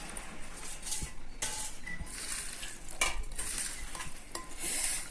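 Fried flat beans being mashed and mixed with coriander leaves for a winter bean mash, giving soft repeated stirring and scraping with a few light utensil knocks, close and steady with no talking.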